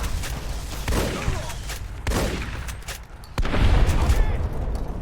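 Gunshots in the video game Don't Feed the Plants ring out as several sharp, loud bursts spaced irregularly over a low rumbling background, with talk faintly mixed in.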